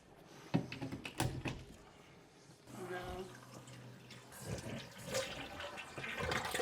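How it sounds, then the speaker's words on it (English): A toilet fill valve refills the tank after a flush during a bidet toilet seat installation, a steady rushing hiss of water with a low hum, heard nearby amid some clunks and handling noises. "Your fill valve should be filling in."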